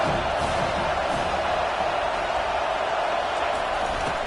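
A college football stadium crowd at Auburn makes a loud, steady roar of broad crowd noise, unbroken and without distinct cheers standing out.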